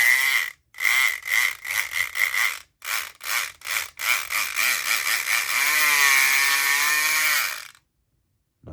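A Southord electric lock pick buzzes loudly and harshly in repeated short bursts, then runs in one longer continuous whine that wavers in pitch before it stops.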